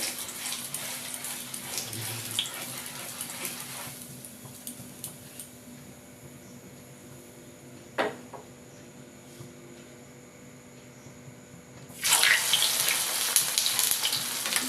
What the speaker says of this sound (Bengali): এবার তেল গরম হয়ে গেছে, এবার আমি তেলের মধ্যে ফুলগুলোকে ছেড়ে দেবো